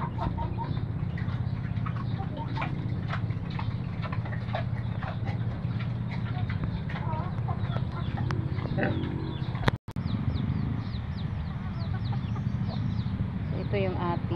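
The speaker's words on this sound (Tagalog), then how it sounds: "So yan yung ating mga sisiw." Chicks and chickens clucking and peeping throughout on a poultry farm, many overlapping calls under a steady background hum, with a brief dropout partway through.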